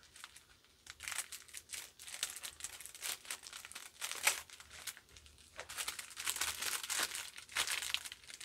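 Packaging from a Temu mystery box is cut open and unwrapped with scissors, giving close, bursty crinkling and rustling of plastic with brief tearing sounds in uneven clusters, and no talking.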